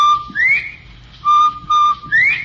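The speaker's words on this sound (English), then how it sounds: "you've heard the cheery whistle of the Bob White." A clear two-note bobwhite quail whistle repeated twice in a 1942 radio broadcast, the second note rising sharply, bright and close against a quiet background.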